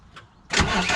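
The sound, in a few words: Deutz BF4M2012 diesel engine cranking on starter in Volvo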